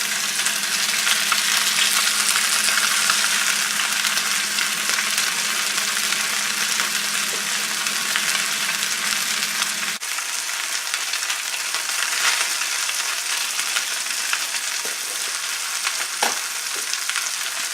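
Vegetables and cooked spaghetti fry in a hot pan with a loud, steady sizzle that runs the whole time, shifting slightly partway through as the contents are stirred.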